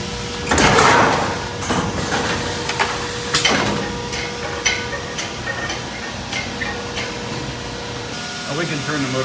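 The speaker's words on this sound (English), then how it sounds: "I do have some footage of this machine opening." An injection molding machine opens with a mechanical clunk and whoosh, then a series of sharp clicks and thumps over a continuous motor hum and a faint tonal whine.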